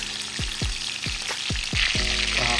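Shrimp sizzling and frying in a hot pan with ketchup, a steady crackling hiss broken by several sharp clanks of a utensil against the pan.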